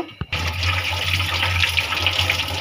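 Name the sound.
washing potatoes under running water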